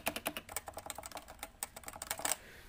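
Fast, steady typing on a Cooler Master CMStorm Novatouch TKL keyboard with Topre switches and stock ABS keycaps, giving close, muffled, evenly paced keystrokes with no talk.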